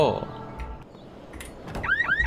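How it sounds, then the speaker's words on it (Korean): An alarm sounds in the zombie survival game HumanitZ: a rising, whooping electronic wail repeats near the end over game noise and brief vocal sounds. "아니 경보 소리 뭐야"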